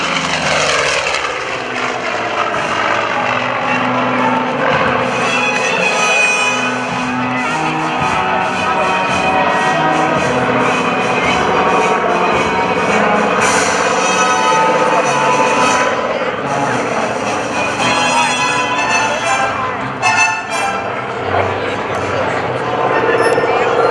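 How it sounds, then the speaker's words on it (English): A Douglas A-1E Skyraider, a radial-engine propeller attack plane, roars past in a low, smoking high-speed pass at an air force base open house airshow, loud and sustained, with an announcer talking over it. "But now, on a smoking low high-speed pass, Mr. Dan McCue."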